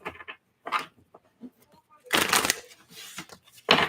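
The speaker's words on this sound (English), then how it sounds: "this is going to be our last shuffle" Playing cards are shuffled in quick riffling bursts, close and crisp, between scattered soft handling noises.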